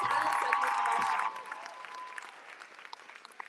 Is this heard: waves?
no